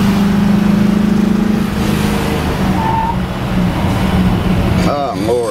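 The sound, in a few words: 1961 Ford Fairlane 428 Cobra Jet engine accelerating at half throttle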